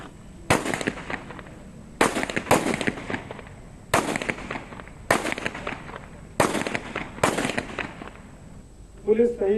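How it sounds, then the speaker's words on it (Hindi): A ceremonial rifle volley salute at a police martyrs' memorial in Rajasthan: six loud, evenly spaced bursts of crackling gunfire, each ringing out briefly before the next, with a short voice at the end. "फायरिंग कर वणा ने सलामी दीनी"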